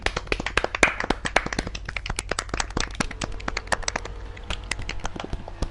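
A few people clapping for the winner of a GT3 sim race at Laguna Seca, the sharp uneven claps close and loud at first and thinning out toward the end.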